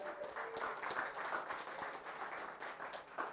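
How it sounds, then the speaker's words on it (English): Audience applause at a tech meetup talk, dense steady clapping from a room full of people, sustained at an even level with a slight swell near the end. "a round of applause for Tara"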